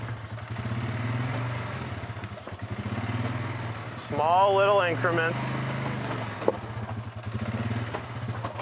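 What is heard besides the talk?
Polaris ATV engine crawling slowly down over rocks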